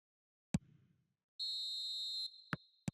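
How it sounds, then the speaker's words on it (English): A referee's whistle blown for half-time in a football video game, one long bright shrill blast with a few sharp clicks around it, clear and close against near silence. "Referee's had a look, and he's blown his whistle for half-time"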